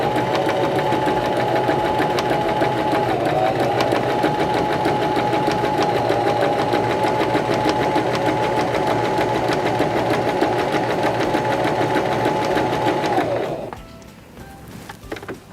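A Singer Start 1304 sewing machine stitches fabric in a fast, even mechanical whir that holds steady and loud for about thirteen seconds, then cuts off into quiet handling sounds.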